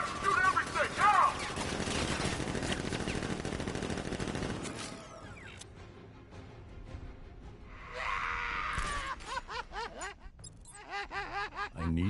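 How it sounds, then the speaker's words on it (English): Guards open fire in Batman: Arkham Knight, with bursts of gunfire and rattling shots spread through a busy game soundscape and a voice speaking over parts of it. "Guards! Open fire! Shoot everything!"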